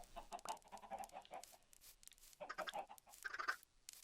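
Chickens clucking in Minecraft, a run of short blocky clucks and squawks in two bursts, moderately loud against a faint game background.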